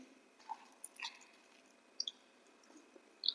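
Gathi bharta being mashed by hand, soft close squishing and wet smacking sounds in irregular bursts against a quiet background.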